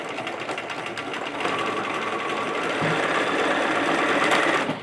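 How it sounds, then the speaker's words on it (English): A sewing machine running a zigzag stitch on a face mask, a steady close mechanical whir that continues without pause and grows slightly louder partway through. "I can kind of feel it on my face, and I just do a zigzag."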